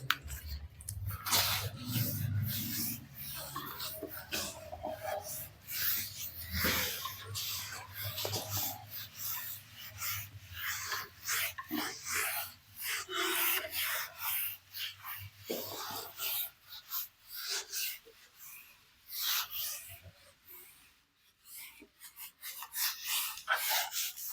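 Trigonometry formulas being written out by hand, giving close scratchy pen strokes in quick bursts with short gaps, and a few moments of faint talking.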